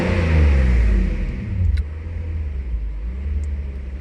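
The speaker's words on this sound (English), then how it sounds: "That's just like a tiny bit of touch in the pedal and it revs." Mercedes SL600 R129 engine blips with a light touch of the pedal, a deep, close rumble that swells briefly and then settles back to a steady idle.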